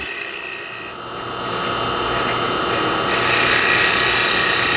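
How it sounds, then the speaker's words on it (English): A Hunter tool shear-scrapes the steep inside wall of a wooden box spinning on a lathe, giving a continuous close, rasping hiss with slight swells in loudness and no talk. "I'm actually shear scraping"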